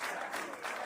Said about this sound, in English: The crowd chanting Packy.